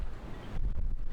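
Strong wind of 29-knot gusts from the outer bands of Hurricane Erin buffets the microphone at anchor in rough, low roaring gusts that swell suddenly halfway through and keep pounding.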